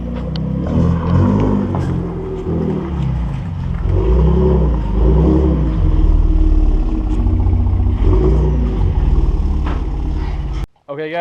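A 2018 Shelby Baja Raptor pickup on BFG Mud Terrain tires rumbles up a driveway, its engine a loud, close, throaty drone with revving swells, ending in a brief clatter.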